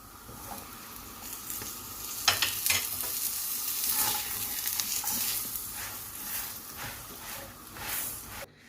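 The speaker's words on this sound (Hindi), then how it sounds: "अब थोड़ा सा इसको नीचे से भी ऐसे गोल्डन कर लेंगे। इधर भी हम थोड़ा सा मक्खन डालेंगे।" Methi paratha frying in butter on a pan, a steady close sizzle with scattered crackles and a few sharper pops, no talking.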